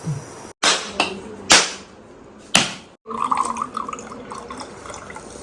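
Water squeezed from a wet cloth splashes and spatters in a few sharp bursts, then a soft, steady trickle and dripping follows, close by.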